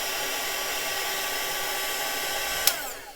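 A hot air gun blows continuously at close range, a steady loud whooshing hiss with a motor whine, used while building a Category 5 Hurricane model. A brief click comes near the end as it winds down.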